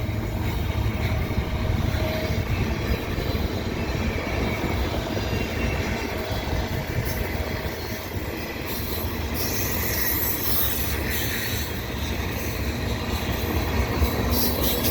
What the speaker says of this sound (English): Here the train is running underneath the Dorval ramps